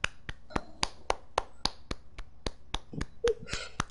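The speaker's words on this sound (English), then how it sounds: "Can you hear me clapping?" Hands clap one at a time at a steady slow pace, about fourteen sharp, dry claps close to the microphone with short quiet gaps between them.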